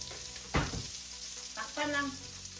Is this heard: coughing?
no